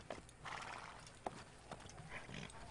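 In the video game Assassin's Creed, a horse whinnies and snorts while hooves clip-clop in a few quick steps, fairly quiet and close, with no talking.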